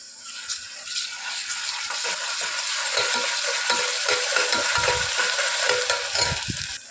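Ginger garlic paste frying in oil with golden brown onions for bagara rice, a steady broadband sizzle with intermittent stirring scrapes and clinks throughout, no voices.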